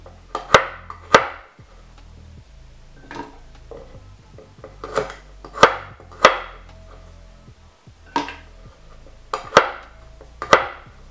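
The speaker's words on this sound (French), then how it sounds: "Je le coupe en petits morceaux." A knife chops an ingredient into small pieces on a board for flavored rum, sharp close knocks coming in quick pairs and clusters with short pauses between.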